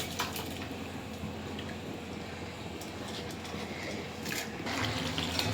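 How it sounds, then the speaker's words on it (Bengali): Rice being poured into water in a cooking pot for a fried rice dish, a rushing, rattling pour with sloshing water that grows slightly stronger toward the end, with no talk. "তো এই যে বন্ধু, চালটা দেওয়া হচ্ছে"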